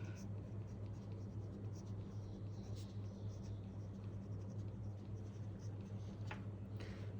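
Pen scratching on paper while marking an O Level maths exam answer, faint and close over a steady low background hum.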